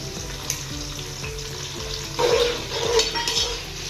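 Chopped garlic sizzles steadily in hot oil in a pot, with occasional stirring scrapes and light clinks.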